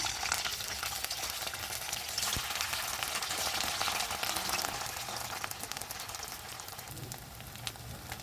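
Sago pakoras fry in hot oil, a soft continuous sizzle with occasional stirring clicks, fairly quiet and steady, no voices.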